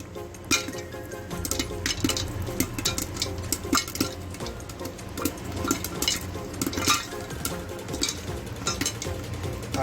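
Popcorn kernels popping in a pan over a low flame, giving a steady scatter of small clicks and ticks that keeps going without a break, heard up close with no one talking.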